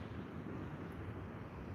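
Steady outdoor wind buffeting a microphone beside a hand-held tripod, a continuous low rumbling roar with no pauses and no voices.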